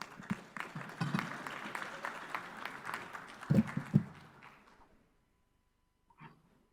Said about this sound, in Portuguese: Por gentileza, uma salva de palmas.